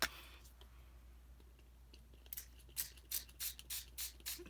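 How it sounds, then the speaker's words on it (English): A spray bottle gives a rapid series of short, close hissing spritzes, about eight in a steady rhythm after a quiet start. "I'm just going to spray my page down with a good covering of just the water."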